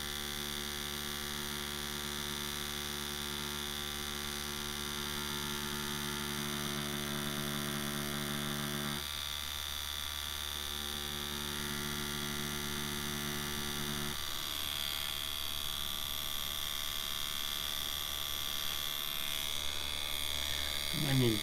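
A Dragonhawk Extreme v2 direct drive tattoo machine buzzes steadily, a fine, even electric hum whose pitch shifts twice as the speed is changed, ending with a brief handling noise.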